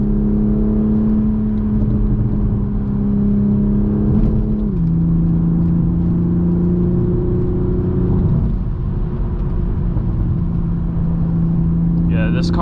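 A Toyota Supra MK5 pulls hard up a winding touge road, its engine note climbing steadily and dropping twice at gear changes, loud and close from inside the cabin, with a voice speaking briefly over it.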